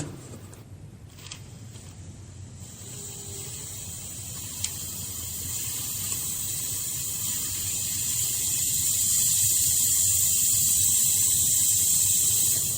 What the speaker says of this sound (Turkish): Hava çıkmaya başladı.